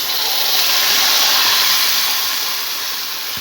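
Steady loud sizzling hiss as rice is added to a pan of toasted vermicelli, a continuous bright frying wash that fades slightly toward the end.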